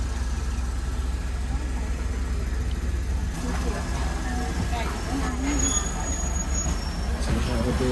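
Onboard a Thai State Railway express heading to Isan, the carriage gives off a steady low rumble of wheels on track, with faint squeals and clatter joining midway. People speak quietly over the running noise.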